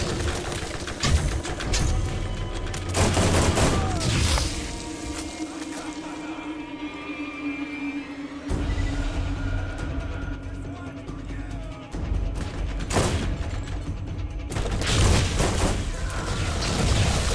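Gunfire in the video game Borderlands: loud bursts of shots and booming impacts, heaviest early and late, mixed with mechanical game sounds, a sustained hum and the clatter of combat.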